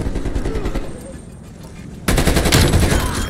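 Rapid automatic gunfire in the Call of Duty Cold War multiplayer game, a steady rattle that drops back briefly and then returns in a louder, denser burst of overlapping shots near the end.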